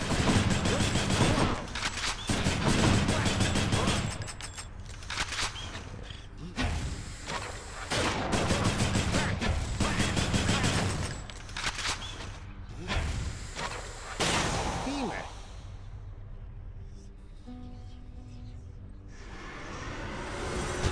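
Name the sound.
Adamant Rail gun firing in video game Hades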